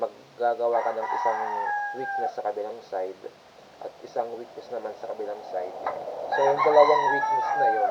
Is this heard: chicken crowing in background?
yes